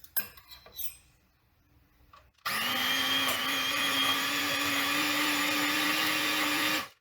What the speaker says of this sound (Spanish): y lo vamos a batir